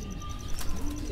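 Pigeon coos softly nearby in a short, low, throaty murmur, with faint background rustling and no talking.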